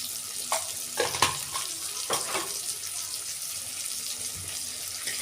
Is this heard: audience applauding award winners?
no